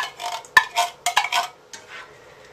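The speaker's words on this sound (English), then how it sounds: "Now let's just stir it all up." Ground beef and tomato sauce being stirred in a pan for baked spaghetti, several short scraping strokes of a utensil with a few sharp clacks, close and alone.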